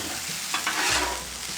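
Shrimp, steak, rice and veggies fry on a Blackstone griddle, a dense continuous sizzle with scraping spatula strokes as the food is pushed around, close and loud without talk.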